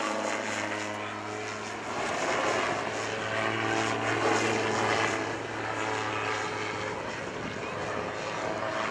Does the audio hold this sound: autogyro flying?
yes